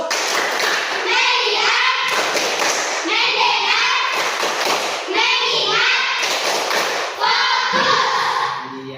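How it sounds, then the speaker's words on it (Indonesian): Schoolchildren in a classroom perform a rhythmic focus clapping routine, loud close bursts of hand claps alternating with chanted group counting, repeating in regular cycles of about two seconds. "Nanti dengan tepuk fokus."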